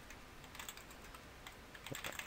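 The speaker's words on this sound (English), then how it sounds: "Start typing whatever you want." Typing on a computer keyboard while composing an email in Apple MobileMe, a quick run of soft, close key clicks with a denser burst near the end, heard alone.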